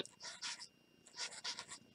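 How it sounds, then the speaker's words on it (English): Values being written down by hand with a pen or pencil on paper during a lab experiment: two bursts of close, soft scratchy strokes separated by a short pause, with no talking. "So I'll write those down."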